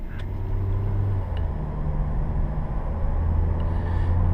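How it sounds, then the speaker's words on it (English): Engine of a 2016 Mazda CX-3 2.0 with automatic gearbox heard from inside the cabin, a steady low drone that shifts pitch as gears change quickly while driving, with no talk over it. "Gear changes are quick, responsive, the engine becomes alive, and you really hear it working and doing its thing."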